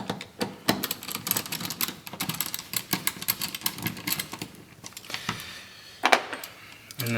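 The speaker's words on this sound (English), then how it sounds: "hold your screws off to the side." Metal screws from the engine air filter housing of a 2014-2018 GMC Sierra or Chevy Silverado being handled and set aside, heard as a run of small sharp clicks and light metallic taps, close and fairly quiet, with a brief rattle near the end.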